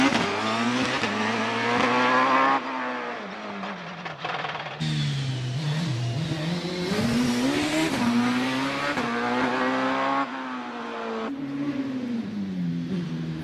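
A Works OMS 28 hill climb race car with a 2.7 litre V8 engine at Prescott, its engine note rising and falling through gear changes as it accelerates past, loud and continuous with no talk.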